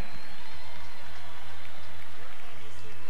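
A crowd in the stands at a farm machinery show applauding, a dense, continuous patter of clapping with a low rumble of engine or hall noise beneath it.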